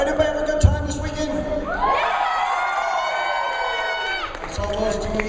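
Audience yelling and cheering at the AFW closing ceremony, a swelling crowd roar with loud whoops rising and fading over a few seconds, with someone talking before and after.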